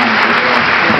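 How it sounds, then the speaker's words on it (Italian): An audience on stage at a film festival breaks into loud, dense applause that fills the whole second as a close, continuous roar of clapping hands. "tutti noi, un applauso"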